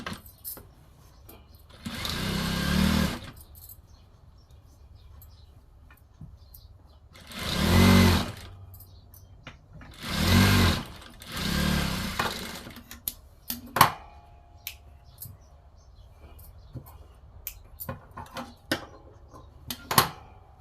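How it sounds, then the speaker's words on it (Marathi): A sewing machine stitches along the edge of a blouse in short bursts of whirring motor hum, three main runs separated by pauses, followed by scattered clicks and small handling knocks. "आता इथे आपण कडेनी टीप मारून घेऊ"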